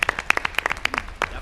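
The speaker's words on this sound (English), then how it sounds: "I think we should give every PTO across this district a big round of applause" Scattered applause at a school district meeting, a short burst of separate sharp claps from a small group, uneven and close.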